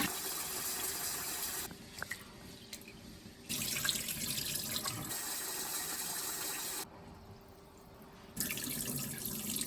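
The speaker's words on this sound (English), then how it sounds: "wash this gently and drain" Running tap water splashes over sweet rice being washed in a sink, coming in bursts that stop and start as the grains are rinsed and drained, fairly quiet and close.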